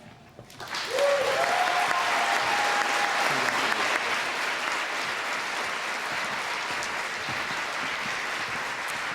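An auditorium crowd at a city awards ceremony breaks into applause after a short tone at the start, the clapping swelling quickly and holding steady and loud to the end.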